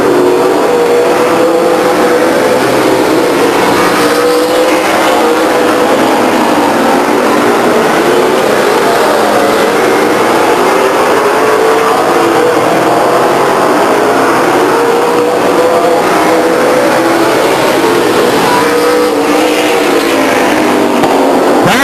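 Race cars circle a speedway track in a steady, continuous roar, engines rising and falling as cars pass, loud and unbroken throughout.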